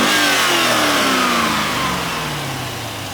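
A 1998 C5 Corvette LS1 engine in good condition revs up loudly and close, its pitch climbing and then slowly winding back down over a few seconds, with no talk over it.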